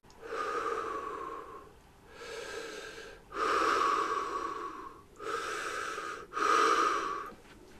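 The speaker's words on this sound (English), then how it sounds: "you can still hear Michael breathing at the end" Michael Myers breathing heavily in Halloween (2018), five slow, loud, raspy breaths close to the ear, each a drawn-out wheezing rush of air separated by brief pauses, with nothing else in the background.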